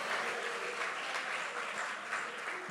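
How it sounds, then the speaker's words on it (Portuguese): A church congregation claps together in sustained, even applause, a dense wash of hand claps at moderate distance with no break across the short stretch. "pode aplaudir bem forte, junto com as suas palmas"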